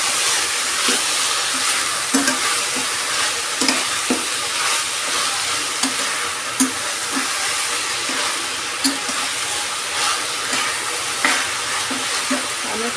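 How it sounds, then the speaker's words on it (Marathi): Chopped tomato is sautéed in a pan and keeps sizzling steadily, while a spoon stirs it and knocks against the pan in irregular clinks and scrapes. The sound is close, and nobody speaks. "आपण ह्याच्यात आता हा टोमॅटो घालून घेऊया. टोमॅटो पण थोडासा परतून घेऊया ह्याच्याबरोबर आपण."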